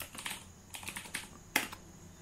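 Computer keyboard clicking in short irregular bursts as code is typed, close and moderately quiet, with one sharper keystroke partway through and no speech.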